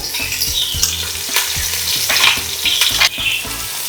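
Crushed green chilli, ginger and garlic sauté in hot oil for mutton biryani, a loud close sizzle with repeated scraping stirs and clinks of a spoon against the pan, no voices.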